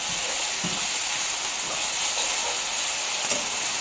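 Chopped onion, garlic, green chilli and coriander leaves sizzle in a hot pan for a Bengali salted hilsa bhuna, giving a steady, close, continuous hiss with no pauses and no talking.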